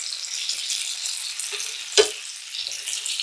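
Chicken pieces for sesame chicken sizzle steadily in a pan as they are flipped, a continuous crisp hiss broken by one sharp clunk of a piece turning over.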